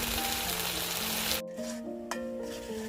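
Chili, turmeric, coriander powder and salt fry in a pan for a country chicken curry, producing a loud, steady sizzle up close that cuts off sharply, then returns in quieter bursts with faint tonal hums and scraping stirs.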